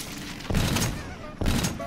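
Two loud, close bursts of rapid gunfire from a weapon in Call of Duty: Infinite Warfare, each lasting about a second and separated by a short lull.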